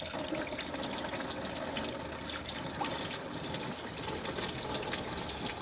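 Coolant drains from a disconnected hose into a pan under a 2001-2016 Chevy Cruze LS 1.8L during a thermostat replacement, a steady, even gush of liquid running continuously with no pauses.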